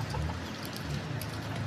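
Bantam chickens kept at a house cluck softly and continuously, a close, steady farmyard murmur of hens with no voices over it.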